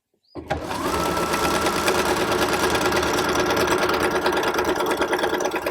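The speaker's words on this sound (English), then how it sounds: "I'm going to sew along the side with that seam allowance that I wanted" A sewing machine runs steadily for several seconds, stitching a half-inch seam down the side of a mock bag; the motor hum and rapid needle chatter stay loud and continuous after a quick start, with no talk.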